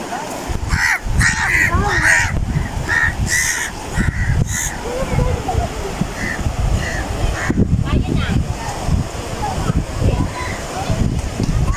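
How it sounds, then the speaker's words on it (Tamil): Several crows caw repeatedly in harsh bursts at Poonakary, with people talking over them throughout. "காகம் வந்துட்டு இந்த காகம் தான் ஃபுல்லாக நிற்குது"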